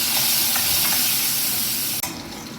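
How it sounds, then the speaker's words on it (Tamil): Chopped shallots sautéing in hot oil with garlic and asafoetida for brinjal puli kolambu, a dense continuous sizzle with a few soft stirring scrapes and a brief clatter near the end, close and without speech. "கூடவே சின்ன வெங்காயம் நிறைய கட் பண்ணி சேர்த்துக்கலாம்"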